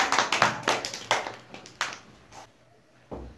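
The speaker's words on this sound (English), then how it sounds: "Clap for Safiullah" Children clapping in a Montessori classroom, a quick run of sharp claps that thins to a few scattered ones and fades to near silence, close and fairly faint.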